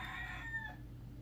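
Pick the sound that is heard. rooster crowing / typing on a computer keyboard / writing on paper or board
rooster crowing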